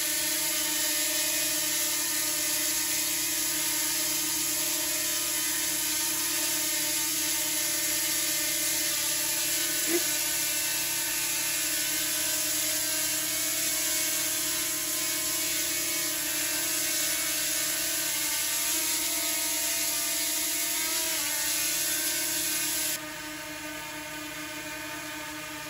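Three small DJI Mini quadcopter drones (Mavic Mini, Mini SE and Mini 2 SE) hover nearby with a steady, high-pitched propeller whine that drops slightly in level near the end.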